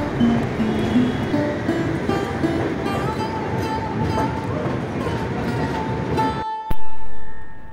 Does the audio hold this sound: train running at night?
yes